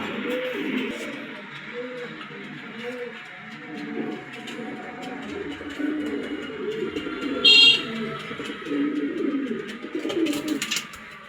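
Pigeons coo close by in repeated, rhythmic low calls that overlap one another, with a brief sharp electronic beep partway through.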